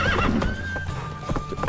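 Roach, the horse in The Witcher 3 video game, gallops with quick rhythmic hoofbeats and lets out a loud, high whinny up close.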